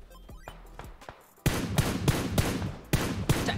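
Gunfire in the mobile shooter PUBG Mobile: a few distant shots, then from midway a loud, rapid series of sharp cracks in uneven bursts, with no talking.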